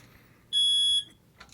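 An older smoke alarm in a real estate listing sounds a single loud, piercing electronic beep of about half a second, close and clear against a quiet room, with a faint rustle afterward.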